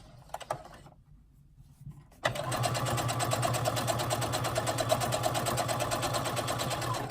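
A sewing machine runs a small basting stitch along a front neckline: after a few faint clicks and a short quiet gap, the motor starts and whirs steadily with a fast, even needle rhythm, close and fairly loud.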